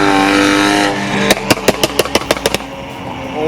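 A BMW F32 435i with an E85 flame tune crackles out a rapid string of about ten sharp exhaust pops after a loud engine drone, close and loud.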